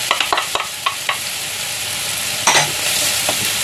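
Chopped ginger and onion hit hot oil for fried rice, giving a steady sizzle with several sharp spatula clicks early on and a louder scrape-and-crackle burst near the end.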